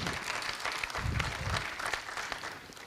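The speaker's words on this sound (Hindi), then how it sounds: "चलो एक बार जोरदार ताली बजा दो फिर" An audience at a Hindi poetry gathering, a kavi sammelan in Rohini, claps in a brisk, continuous round of applause, with a faint low murmur of the crowd beneath.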